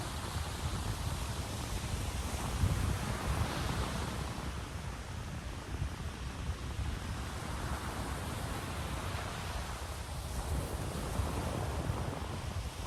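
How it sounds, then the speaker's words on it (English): Steady roar of surf with waves surging and receding in slow swells, soft wind-like hiss layered over it, continuous and calm with no voices. "the sound of the waves"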